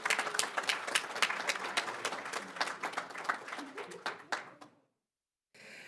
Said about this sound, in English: Just give them all a round of applause.